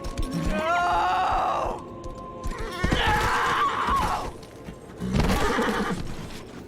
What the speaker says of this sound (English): I knew she was calling her horse